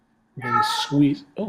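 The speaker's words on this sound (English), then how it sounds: "that's my cat." A pet cat meows indoors while a paper card model airplane is being assembled. Two close, short meows come one after the other, and someone speaks right over them.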